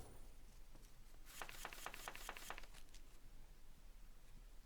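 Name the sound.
card deck shuffling in video game Breach Wanderers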